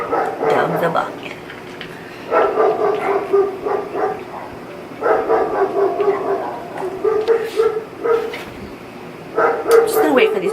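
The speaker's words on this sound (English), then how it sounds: "Just gonna wait for these dogs to stop barking and get to it." Several dogs barking and yipping in repeated bursts, fairly close and loud, with short pauses between volleys and occasional higher whimpering yelps.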